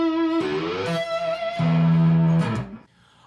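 Sustained distorted electric guitar played with a slide, long held tones bending between pitches, loud and close, then cutting off near the end.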